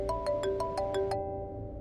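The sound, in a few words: mobile phone ringing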